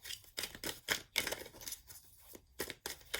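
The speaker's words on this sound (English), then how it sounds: "I'm gonna be shuffling all day." Close, dry papery snaps and flicks in uneven bursts as tarot cards are shuffled and riffled by hand, with no talking.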